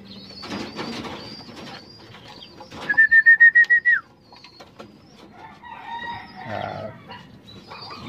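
Racing pigeons scramble for feed at a feeder, with close fluttering wings, pecking and scuffling, and a brief run of loud rhythmic calls in the middle, no talk.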